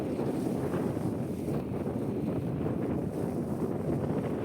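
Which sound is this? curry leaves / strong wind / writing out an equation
strong wind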